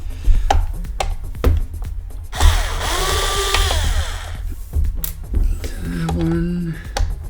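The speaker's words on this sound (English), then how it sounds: "Let's see if I can unscrew this guy." A screw being removed from a CyberPower UPS (CP1500AVRLCDa) during a battery replacement: close mechanical whirring and grinding in two stretches, with clicks and handling noise, and a voice speaking in between.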